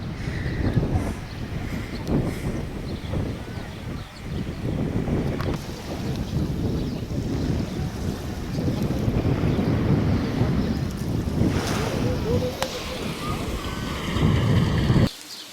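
On Easter Island's only white sand beach, steady wind buffets the microphone over a constant wash of surf, loud and unbroken for the whole stretch.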